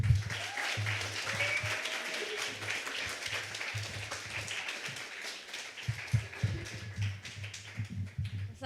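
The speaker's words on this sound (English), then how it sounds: "Another big, massive round of applause." A crowd claps and applauds steadily, fairly close, with a low thumping hum underneath and the clapping tapering slightly toward the end.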